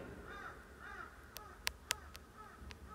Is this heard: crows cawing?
yes